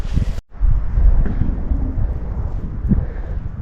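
Strong wind buffets the microphone among historic buildings in Bukhara, Uzbekistan, making a loud, low, gusting rumble. It drops out briefly near the start, then roars on without pause.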